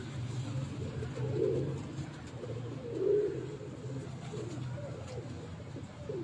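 Soft, low cooing from a Nindumi pigeon of the Faisalabad breed, heard on a rooftop in two gentle swells around the middle of the clip over a steady low background hum.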